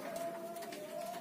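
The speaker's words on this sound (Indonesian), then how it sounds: "perkutut warna saya yang pertama nih" A zebra dove, a color-bred perkutut, gives a soft, steady coo over a faint hiss, one short continuous call heard close and quiet.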